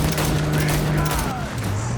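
Dense gunfire in Cyberpunk 2077 rattles in a continuous loud barrage, layered with game music and effects, while voices speak over the fighting.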